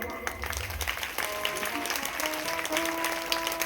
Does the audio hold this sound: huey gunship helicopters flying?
no